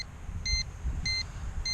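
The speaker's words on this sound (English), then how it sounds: "And it just beeps like this to mean it's coming home." A Snaptain SP500 GPS drone returning home gives three short, evenly spaced high electronic beeps, clear above a low background rumble.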